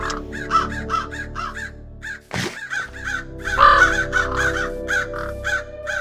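A raven from Nico's Mobs addon in Minecraft Bedrock caws repeatedly in quick rhythmic bursts, loud and close, with a brief whoosh midway before a second run of harsh caws.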